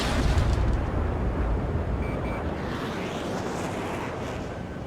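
In the jet combat game Ace Combat 7, an F-15E Strike Eagle fires a missile with a loud roaring rush, and a rumbling blast fills the air. Sustained, broad and powerful, with faint beeping tones partway through.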